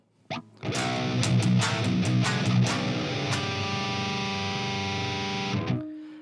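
Heavily overdriven 7-string electric guitar chords through a Fender Tone Master Pro with a green boost pedal ring out loud and saturated, a few sharp strums at first then a long sustained distorted chord fading near the end.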